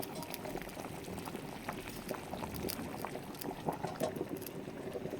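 A covered pot of Istrian cabbage stew comes to a boil over high heat, giving a continuous, dense bubbling and rumbling with scattered pops, steady throughout and heard alone.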